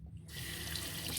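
A water tap runs steadily to wet an alum block for shaving, a close, continuous splashing rush that starts after a brief quiet moment.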